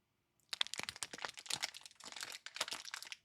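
Close, crisp crunching and crumbling from biting into a crumbly fig-Newton-like carrot cake snack, a dense run of dry crackles and crinkles going on for about three seconds with no talk.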